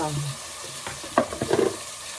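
Onions and tomatoes sauté together in a pan for a non-veg curry, a soft sizzle with a few quick stirring scrapes and clatters clustered near the middle, close and brief.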